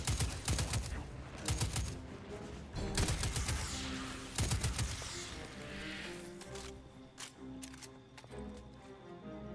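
Gunfire in the video game Destiny 2, with sharp repeated bursts and single shots in quick clusters, loud and close over a game soundtrack, with brief talk between.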